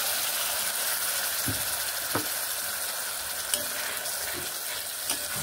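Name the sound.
ginger, cumin and chili paste frying in a pan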